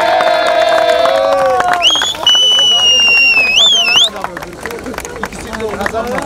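Crowd at a Cabotage Day boat race in Marmaris cheering and whooping as the 200-plus horsepower boat Sultan wins, loud, lively cheering and babble with high whistles, under an announcer's voice.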